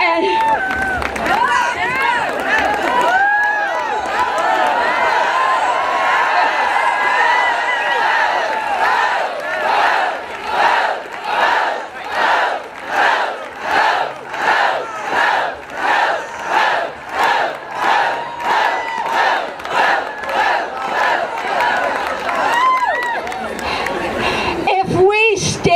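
Large crowd at the 2018 Women's March rally in Asheville cheering, then settling into a loud rhythmic chant with regular pulsing beats, ending in a renewed roar of cheers.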